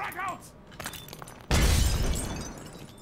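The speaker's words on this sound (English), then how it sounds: "I threw the grenade and I was actually standing right next to my own grenade" A grenade explodes in a first-person shooter video game, a sudden loud, close boom with a crackling, shattering tail that slowly fades. Quieter game noises come before the blast.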